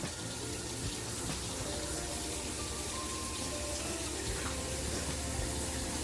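Warm tap water runs steadily into a kitchen sink while bread is being made, a constant close hiss and splash with no talking.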